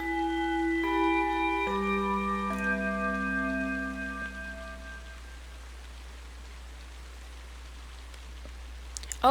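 Steady rain falls in the video game The Legend of Heroes: Trails of Cold Steel, a soft, even hiss that continues alone after a few sustained musical tones fade out.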